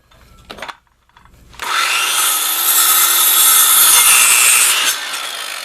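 Hand saw cutting through a wooden board for a solar panel frame, a steady rasping stroke that starts after a couple of light knocks and runs loud and continuous for several seconds close by.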